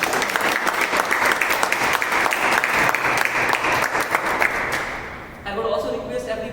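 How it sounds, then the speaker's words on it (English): Audience at a Toastmasters-style meeting gives a big round of applause, dense steady clapping from a crowd filling the room, fading slightly near the end as another sound enters. "a big round of applause"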